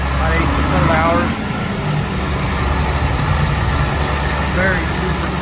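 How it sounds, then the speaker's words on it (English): A 1977 John Deere 8630 tractor engine runs steadily with a loud, continuous low rumble throughout, and a voice talks over it. "a nice 8630 John Deere tractor"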